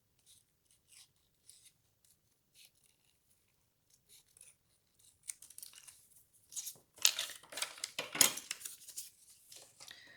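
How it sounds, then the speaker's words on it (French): Sharp scissors cut out a paper drawing of a flower, with soft, sparse snips at first that grow into louder, quicker crisp cuts and paper rustling near the end, close by and without talk. "j'ai découpé tout le dessin et la fleur en plus"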